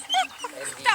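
A dog whines and yips in high, wavering cries, close and fairly loud, with a second whimper at the end and brief indistinct voices mixed in.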